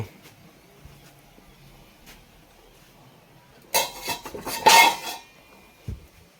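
Boiled peas and potatoes are stirred in a pot, with a short flurry of loud metallic clanks and scrapes from the spoon against the vessel after a quiet stretch.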